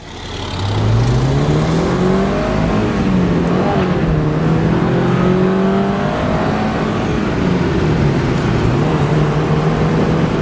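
A Porsche 944 S2 Cabriolet accelerates with a loud, close engine note, climbing and dropping through the gears as it shifts, and keeps driving without any talk over it.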